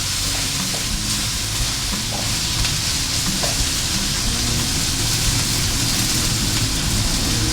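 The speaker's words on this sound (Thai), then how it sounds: "แล้วก็ผัดคลุกเขาให้ มะเขือเปาะเรา โดนน้ำมันให้ทั่วนะครับ" Thai eggplant stir-fried in hot oil for a spicy squid stir-fry, giving a loud, continuous sizzle and hiss from the pan throughout, with faint scraping of the spatula mixed in.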